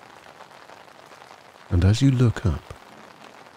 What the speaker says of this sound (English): you see streams of rain falling down the sides of the galvanized railings and fences.